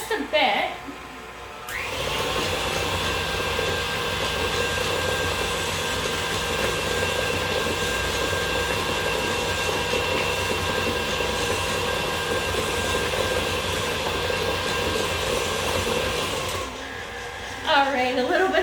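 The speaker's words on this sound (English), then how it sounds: "a little bit of fun there with the mixer" Kitchen stand mixer beating cookie dough, a loud continuous motor whine and churning hum, close and steady for about fifteen seconds. It starts and stops abruptly, with brief handling sounds before and after.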